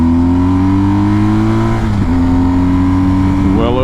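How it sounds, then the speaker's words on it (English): A BMW R1250 GSA motorcycle with its stock muffler cruising at highway speed, giving a loud, steady engine drone with strong humming tones that dip briefly and climb again near the end, under continuous wind rush. "This is on BMW R1250 GSA, stock muffler. It's a quiet bike, pretty much. So let's see what it does on the highway."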